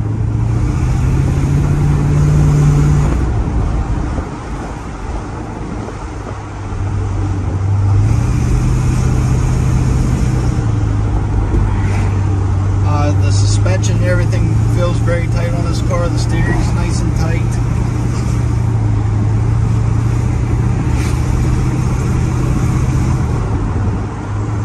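A 1968 Corvette with a 427 V8 rated at 390 horsepower drives steadily. Its low engine drone rises and falls as gears change, with a brief lift-off pause and a patch of rattling in the middle, close and continuous.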